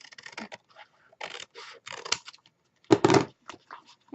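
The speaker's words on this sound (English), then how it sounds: "So we are going to cut this portion right here off" Scissors cutting paper for a sleigh craft, a few short close snips and scraping bursts separated by brief pauses.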